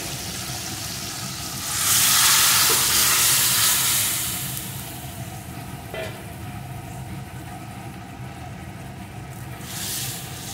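Ingredients poured into a hot pan for a prawn and taro dish burst into a loud, close sizzle that swells for a couple of seconds, then settles into a steady lower frying hiss with a later brief flare.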